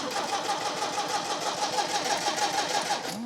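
A 1964 MGB that has sat for two years cranks steadily on its starter, engaged by the button on the solenoid, with a rapid, even churning rhythm, close and fairly loud throughout and no voices.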